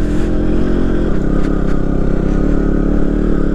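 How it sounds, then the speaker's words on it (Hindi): KTM Duke 125 motorcycle grinding along a rough off-road track in first gear, a loud, close, continuous engine drone with rattling clatter from the bumpy ride and no speech. "अपनी ड्यूक 125 काफ़ी अच्छी तरह से चल रही है, कोई ख़ास प्रॉब्लम नहीं देती है।"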